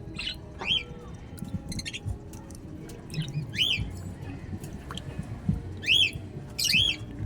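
Small birds chirp and squawk in short bursts of sharp calls, close by, over a low background rumble.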